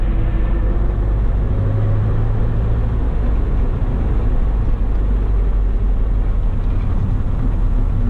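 A 1970 Lancia Fulvia's engine rumbles steadily at close range, a continuous low drone of driving with no pauses or voices.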